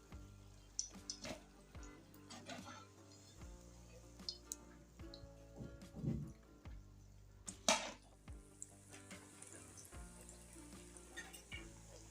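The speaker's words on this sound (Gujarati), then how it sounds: "તો આપણે બાકીના મરચાં છે એને પણ તળવા મૂકી દીધા છે" Stuffed chillies for bhajiya fry in oil over a low flame, giving a steady close sizzle with scattered crackles and sharp pops, plus occasional light stirring clicks.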